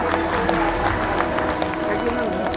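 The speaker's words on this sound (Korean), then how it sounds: "추강래 원장님 환영의 박수 부탁드립니다." Welcoming applause for a cultural centre director at a book concert, steady clapping from a seated audience with murmuring voices mixed in throughout.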